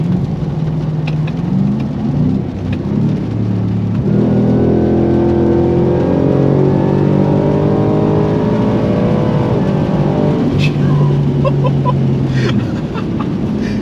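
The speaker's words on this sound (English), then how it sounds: "it sounds, you can hear the supercharger" A supercharged Ford Raptor R truck accelerates hard, loud and close from inside, its engine note climbing through rising, stepped gear pulls with a constant supercharger whine over more than ten seconds.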